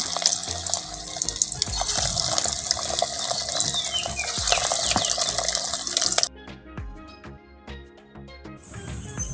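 Fish roe fritters fry in hot oil with a loud, dense, hissing sizzle that suddenly drops to a thinner popping crackle, heard up close with no talk.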